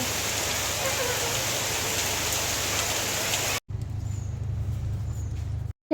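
Steady rain falls outside with a constant wash of drops, loud and even, then continues more softly after a brief cut.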